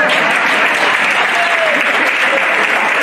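A congregation breaks into loud, sustained applause, a thick, even roar of many hands clapping close by that holds steady throughout with a faint voice rising briefly through it.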